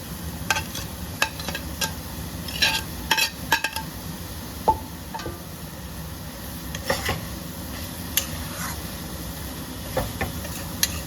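Fried okra being stirred into an egg and spice masala in a pan, with scattered spatula scrapes and light clinks over a soft, steady sizzle, close and fairly quiet with no talking.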